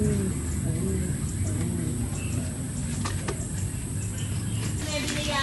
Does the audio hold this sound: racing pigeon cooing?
yes